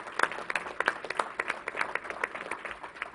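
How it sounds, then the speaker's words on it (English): A small audience at a New York State Fair briefing gives a short round of applause, fairly quiet, loose individual claps heard from some distance. "Let's give him a round of applause"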